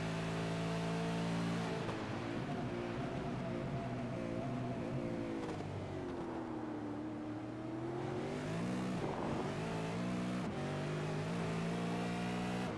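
V8 race cars in the East Coast V8 Series roar continuously at high revs, engine pitch rising and falling through gear changes and a bend, with cars jostling close together.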